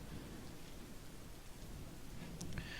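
Rain in the video game Dwarf Fortress, a steady, even hiss of rainfall filling the background with a few faint higher ticks near the end and no talking.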